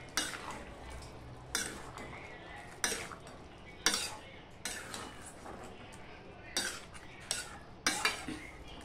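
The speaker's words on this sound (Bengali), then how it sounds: "গরম মশলা দিয়ে আমি একটু নেড়ে নেব।" Garam masala being stirred into an ichor chingri curry of jackfruit and prawns in a pan, with a spoon scraping and clinking against metal in irregular strokes roughly every second, close by and moderately loud.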